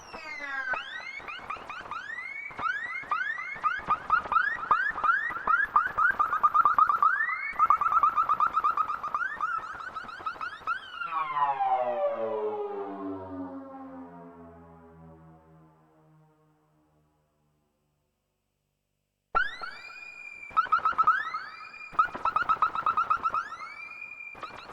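An Arturia MiniFreak synthesizer plays a laser-style patch that sounds like a police siren: loud, repeating rising and falling sweeps, then a long descending tone fading to silence before the bright sweeping pattern returns.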